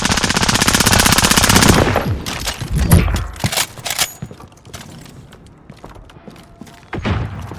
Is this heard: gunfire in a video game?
yes